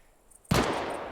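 A single Mosin rifle shot in the video game Deadside cracks out loud and sudden after near-silence, followed by a short decaying tail.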